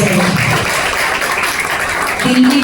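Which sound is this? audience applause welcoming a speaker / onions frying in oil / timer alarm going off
audience applause welcoming a speaker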